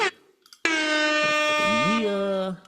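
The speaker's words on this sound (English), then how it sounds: "Yeah, let's get some air horns." A loud, blaring air horn sound effect sounds in one long sustained blast of about two seconds, bending in pitch near the end, following a brief snippet of talk.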